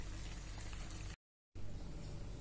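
Cauliflower boils in a pot of salted water, a steady close bubbling and hiss that runs throughout, broken once by a brief moment of complete silence partway through.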